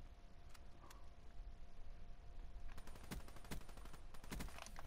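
The weevil gun in a video game fires in rapid bursts of sharp, fairly quiet shots, sparse at first and then a dense rattling volley over steady background noise.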